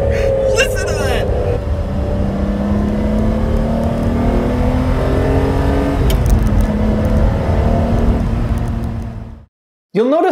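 A 1990s sports car engine, either a Ferrari 512TR or a Porsche 911 Turbo, revs loudly and close for most of the stretch, its pitch rising and falling, then cuts off abruptly near the end.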